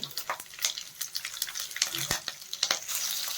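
Green chillies fry in hot oil with cumin and curry leaves, a close, crackling sizzle with sharp pops and spatters plus the scrape of stirring.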